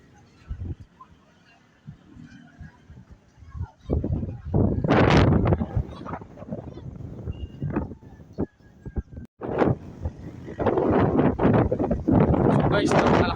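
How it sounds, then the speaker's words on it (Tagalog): Strong wind buffets the microphone in loud, rumbling gusts at Kilometer 90 in Infanta, Quezon, with a person talking over it intermittently. "napakalakas ng hangin dito guys"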